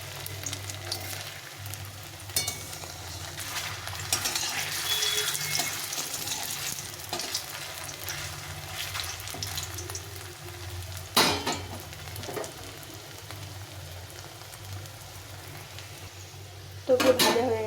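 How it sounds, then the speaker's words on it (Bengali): Chhena balls deep-fry in hot oil with a continuous moderate sizzle, punctuated by occasional stirring scrapes and the clink of a metal utensil against the pan. "এখন আমি বলগুলো ছেড়ে দিচ্ছি"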